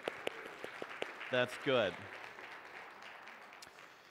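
A church congregation gives a few scattered, sparse claps during a service before baptisms, while a voice speaks briefly over them.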